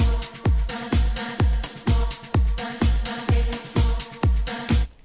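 Looped drum stems from a DJ mix repeat a four-beat pattern, with heavy kicks and crisp hits in an even, steady rhythm that plays loud and unbroken until an abrupt stop.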